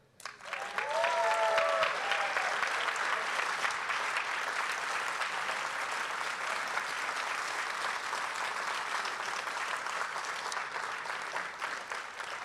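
Sustained applause from a gala audience at a media technology awards ceremony, a dense wash of many hands clapping that swells early and holds steady for the whole stretch, with a brief tonal cue near the start.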